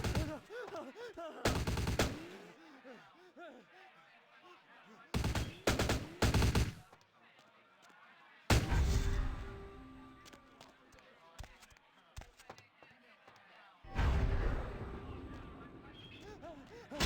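Gunfire in the video game VTM: Bloodlines, loud bursts of rapid shots in several clusters separated by quieter stretches with game sounds and a voice talking.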